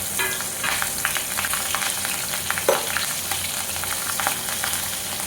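Asafoetida and green chillies sizzle and crackle in hot oil as a tempering is made for a potato vada filling, with steady close frying and occasional stirring scrapes.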